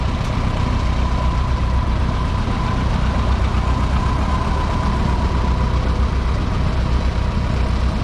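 A Farmall Super M tractor engine runs steadily at a tractor and steam threshers show, a loud, continuous low rumble with a constant mid-pitched tone and no talk over it.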